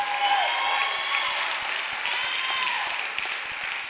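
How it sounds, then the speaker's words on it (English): Dense applause from a crowd at a community event, steady moderate clapping throughout the few seconds without a break. "give yourselves a bigger round of applause"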